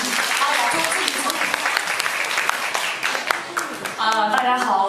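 An audience at a live performance of New Dragon Gate Inn applauds a performer, with dense, sustained clapping throughout and voices talking over it near the end.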